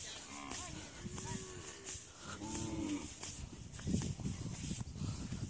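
A bull mooing among a small herd of cattle near the India–Bangladesh border, several drawn-out low calls spread across the moment with hoof shuffling and outdoor noise, fairly close and clear.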